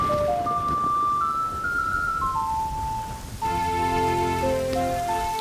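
Rainfall summoned in the Zelda: Majora's Mask video game by playing the Song of Storms, a steady patter of rain running throughout beneath the game's tonal melody of ocarina-like notes, with no talking.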